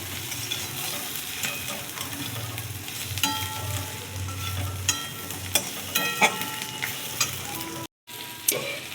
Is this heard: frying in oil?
yes